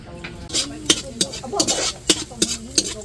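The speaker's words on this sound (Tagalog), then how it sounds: "At si nanay po ay nagigisa na." Ingredients for pansit bihon sautéing in a pan in a hut kitchen, with repeated utensil scrapes and clinks against the pan over a low sizzle at close range.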